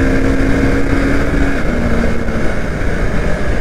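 A motorcycle engine drones steadily while riding, loud and continuous with heavy wind and road rumble, with no voices.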